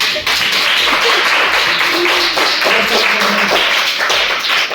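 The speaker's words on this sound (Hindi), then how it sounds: "ताली बजाओ चलो" A group of children claps hands in a classroom, loud and close, with a dense, ragged burst of claps continuing steadily throughout.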